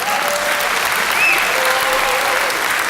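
Practice round of applause from a live audience at an in-person talk event, a steady wash of many hands clapping at even loudness for a few seconds with no voices on top.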